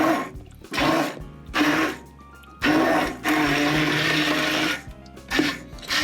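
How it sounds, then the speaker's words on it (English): An immersion blender whirs in several loud, sustained bursts with short pauses between, its motor grinding and churning through plum tomatoes up close. "Gonna get that immersion blender."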